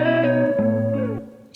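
An electric guitar processed with Sound Doctor effects plays a brief melodic phrase of a few sustained, ringing notes, close and moderately loud, fading out at the end.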